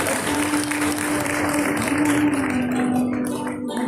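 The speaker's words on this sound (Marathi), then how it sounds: "टाळ्या झाल्या पाहिजेत" An audience at an award ceremony held by the Maratha Seva Sangh gives a burst of clapping, a busy wash of many hands under a faint steady tone, thinning slightly toward the end.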